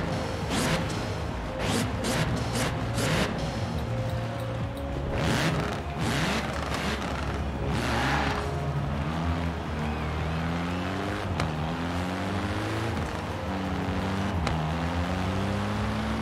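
A Reliant car engine in Forza Horizon 4, droning steadily and revving up and down in repeated rising sweeps, close and fairly loud, with a few sharp clicks early on.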